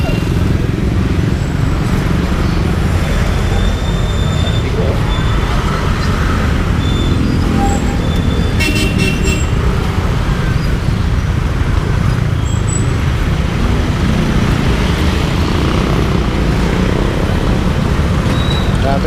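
Dense road traffic beside a public market, with a continuous loud roar of motorcycles and cars passing close by, a few faint horn-like tones, and some talk mixed under the engine noise.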